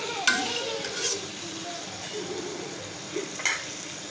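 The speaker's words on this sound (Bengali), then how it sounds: "আমি এখন মাছের সাথে খুব ভালোভাবে একটু কষিয়ে নেব।" Fish and potato pieces sautéed in a pan for a Bengali fish curry with eggplant, a soft steady sizzle with scattered scraping stirs and a few sharper utensil clicks against the pan.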